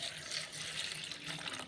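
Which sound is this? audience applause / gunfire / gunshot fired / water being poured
water being poured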